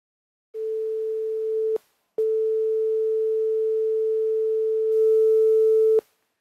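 A code-generated sine wave oscillator emits a steady pure tone that plays alone, breaks off briefly, then resumes and holds for several seconds before stopping.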